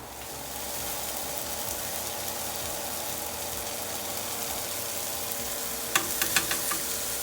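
Ramen noodles cook in broth, giving a steady bubbling sizzle that fills the scene, with a few faint clicks near the end.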